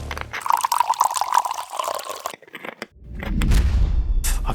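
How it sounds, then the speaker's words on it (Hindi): Water splashes and gurgles into a bottle in a home, a bright pouring stream for about two seconds, then a short pause followed by a louder, lower rushing fill, close and without speech. "तो पानी की बोतल भर दे"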